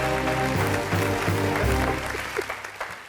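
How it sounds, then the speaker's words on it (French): Audience applause in a live broadcast studio, a loud burst of many hands clapping that thins out toward the end, with music tones running underneath. "Je vais demander d'applaudir pour Mathias Azalaka."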